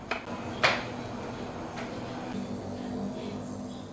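A short metallic clink as a lid is set onto a pot of vegetables and instant noodles, with a few lighter taps before it over a low steady hum.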